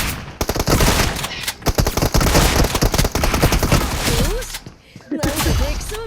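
Rapid bursts of video game gunfire in a 3v2 match crackle loudly and almost continuously, with dense volleys broken by short gaps, while players' voices chatter underneath.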